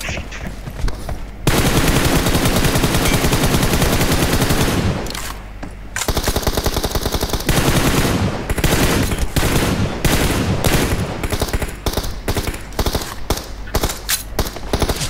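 Gunfire from a shooting video game, with loud, dense bursts of rapid automatic fire lasting several seconds, then a run of quicker separate shots, all close and steady.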